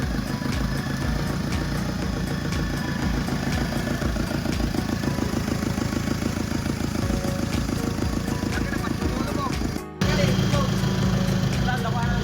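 An Isuzu Trooper's engine, revived after ten years sitting as junk, runs at a steady idle with a continuous low rumble, briefly dipping near the end before carrying on.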